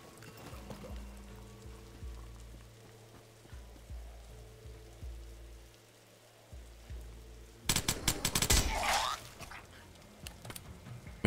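M4 rifle fired in The Last Stand: Aftermath, a loud, sharp burst of rapid gunshots arriving near the end after quieter game ambience with low rhythmic thumps.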